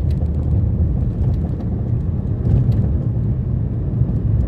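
Car engine while driving in third gear, a steady low rumble of road and engine noise with a wind-buffeted, muffled cabin quality and no speech.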